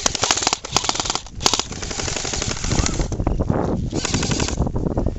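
Airsoft guns lay down cover fire at an outdoor combat field, a loud, close, rapid mechanical rattle of continuous bursts that runs for the whole clip.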